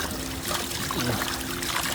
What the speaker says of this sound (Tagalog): Ito yung tubig galing sa water source.